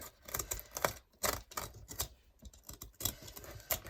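An X-Acto knife slices book pages free from a junk journal cover, producing quick, close, uneven scratchy cuts and clicks in short bursts with brief pauses, fairly quiet overall.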